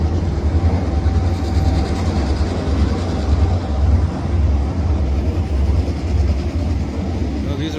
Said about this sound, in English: Now these are heavy loaded hoppers.